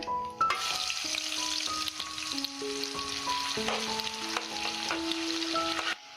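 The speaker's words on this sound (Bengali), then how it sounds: "আমি এখন তেলের ভিতরে দিয়ে দেব পেঁয়াজ কুচিটা" Chopped onion hits hot oil for rohu fish head muri ghonto, a steady broadband sizzle that starts abruptly and holds loud and close for several seconds, with tonal scraping notes from a utensil layered over it.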